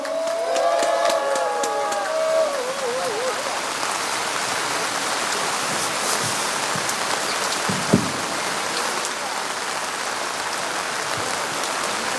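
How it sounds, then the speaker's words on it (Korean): A crowd at a Gyeongnam provincial rally marking the March 1st Independence Movement anniversary applauds to welcome former National Assembly deputy speaker Lee Ju-young. The steady, dense clapping continues throughout, with a voice speaking briefly at the start. "박수해 주시기 바랍니다"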